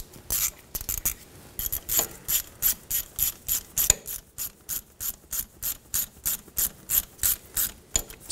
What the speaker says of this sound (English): Then we'll install our bolt.